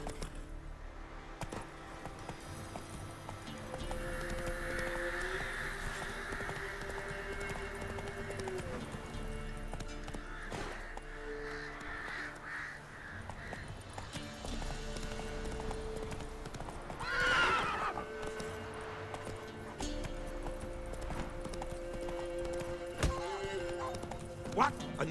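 A horse in The Witcher 3: Wild Hunt gallops with continuous rhythmic hoofbeats and neighs midway, while voices shout and talk over the running.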